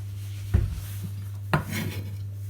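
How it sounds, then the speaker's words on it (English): A knife slices through half an onion on a board, two distinct chopping strokes about a second apart over a steady low hum, close and moderately loud. "we're going to cut the other half of the onion."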